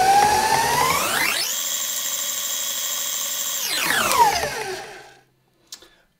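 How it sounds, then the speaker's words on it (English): An electric mixer whirs through cookie dough after vanilla is added, its motor pitch climbing, holding steady, then winding down and stopping, with a small clunk after. "give that a quick mix for about 30 seconds just to get it combined in there"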